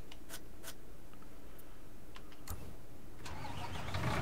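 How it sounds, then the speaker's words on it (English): A cement truck's engine in the video game Construction Simulator 22 rumbles steadily at a mid pitch, with scattered clicks and knocks over it and a louder surge near the end. No talk is heard. "Oh, that's the cement truck again."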